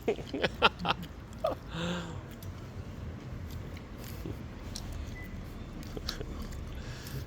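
Tteokbokki is chewed at a street snack stall in Gyeongju, with soft, close mouth sounds and a few sharper bites early on over steady background noise.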